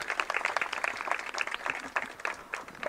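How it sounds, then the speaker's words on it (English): Applause from an audience at a 75th Independence Day celebration at NID Madhya Pradesh, honouring a performer named Anya; dense, steady clapping from many hands fills the room for a few seconds with no speech. "A big round of applause for Anya."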